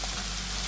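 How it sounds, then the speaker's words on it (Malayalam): Mustard seeds frying in hot oil for a red shallot theeyal, a dense continuous sizzle close up, steady and unbroken for under a second. "കടുക് വറുത്ത്"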